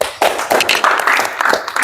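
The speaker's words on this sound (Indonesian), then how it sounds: "Tepuk tangan dulu." An audience at an Indonesian campus visit to a fashion warehouse claps briefly, in a patter of hand claps that rises and thins out over a couple of seconds, with no talk over it.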